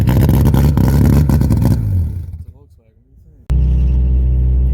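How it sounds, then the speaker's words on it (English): A 1996 Saturn SL1 engine running after an ignition timing fix, loud and close with a steady rumble, dropping away briefly before picking back up at a steady idle. "It's running. Will it idle?"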